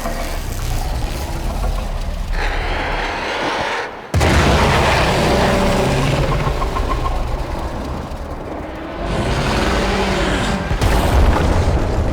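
Heavy explosions boom through a Warframe battle scene, loud and close, with a sharp blast at four seconds followed by sustained rumbling and further detonations, no voices.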